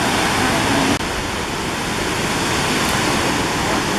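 Kapuzbaşı waterfall in the Amanos mountains of Hatay roars loudly and continuously up close, a dense, unbroken rush of falling water with no voices.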